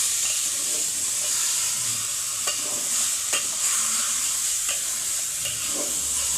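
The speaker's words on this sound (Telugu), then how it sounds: "బాగా కొంచెం నూనెలో మగ్గాలండి" Chicken biryani masala fries in oil with a steady, close hiss while a spoon stirs through it, giving occasional scrapes and clicks over the continuous sizzle.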